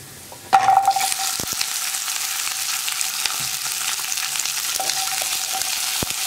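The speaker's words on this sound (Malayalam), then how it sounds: "ഉള്ളി ചേർത്തിട്ട് നന്നായിട്ടൊന്ന് വഴറ്റിയെടുക്കുക" Onions dropped into hot oil for a Kerala okra and shallot tamarind curry, set off by a sudden loud burst of sizzling that settles into a dense, steady frying hiss, close and unbroken, with no speech.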